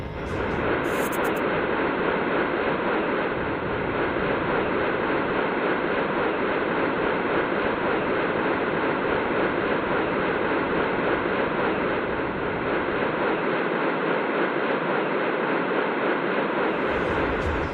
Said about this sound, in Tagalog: Ngayon naririnig ninyo ang tunog ng malaking pagsabog.